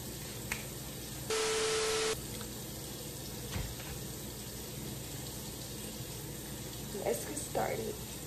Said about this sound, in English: First step, guys, you wash your grapes.